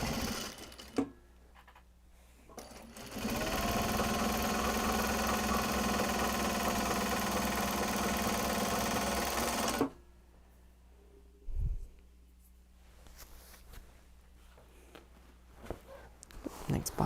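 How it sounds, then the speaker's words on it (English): A home sewing machine winds a bobbin in a loud, even whir of about six seconds, set between quieter room sounds and a brief thump. "Next bobbin is winding."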